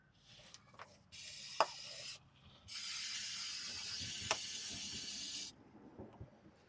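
Brake cleaner sprayed in two long hissing bursts onto the front of a Ram transfer case housing, the first about a second long, the second nearly three seconds, close and loud with small clanks between.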